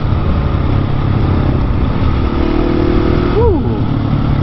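Motorcycle power wheeling in fourth gear up a small whoop, its engine droning loud and close with a steady throttle, a brief rise in pitch near the end, while a rider speaks over it.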